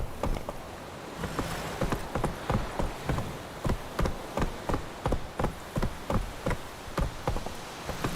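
Geralt's horse Roach gallops in the video game The Witcher 3: Wild Hunt, hooves striking in a steady, rapid repeating rhythm, close and clear throughout.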